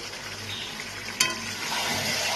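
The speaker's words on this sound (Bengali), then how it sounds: "মাংসটা কিছুক্ষণ কষানোর পর আমি ভেজে রাখা আলুগুলোকেও এর মধ্যে দিয়ে দিচ্ছি" Chicken curry sizzles steadily in a pan as fried potatoes go in, with a sharp clatter midway followed by a louder, fuller frying hiss.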